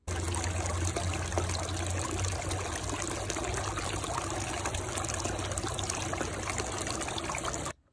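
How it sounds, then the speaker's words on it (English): Water trickling and spilling over the edge of a backyard fountain, a steady close, fast-running splash and dribble that holds evenly for about eight seconds with no talk, then stops abruptly. "when the water spilt over the edge, the sound that the water trickling made was really, really fast"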